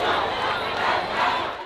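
A protest crowd chants loudly and steadily during a memorial march for a teenager, a dense roar of many voices close by, with no single voice standing out.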